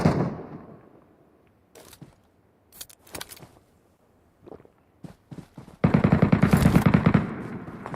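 Gunfire in the MetroRoyale video game: a heavy shot decays at the start, then scattered single shots, then a sustained rapid automatic burst near the end, loud and close.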